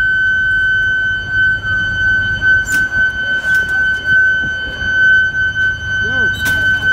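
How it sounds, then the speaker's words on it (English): A stuck fire engine siren holds a steady, piercing tone constantly without wailing at an FDNY commercial fire, while voices and scattered background noise come and go underneath. "it looks like Battalion 11 siren is stuck over there"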